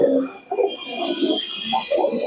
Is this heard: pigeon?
yes